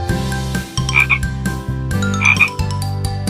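Loud, close rhythmic croaking from a red-eyed tree frog, repeated pulsing calls over about three seconds, mixed with musical tones and no talk.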